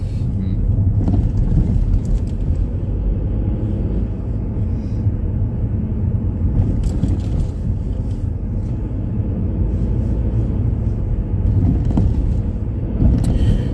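A car driving through a countryside village on a test route near Chertsey, heard from inside the cabin as a steady, loud, low rumble of engine and road noise.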